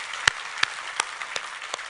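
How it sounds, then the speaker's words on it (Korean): Five sharp, evenly spaced claps ring out in a church congregation, each a crisp single beat over a faint, quiet background. "우리 하나님께 감사와 영광의 박수를 드리겠습니다."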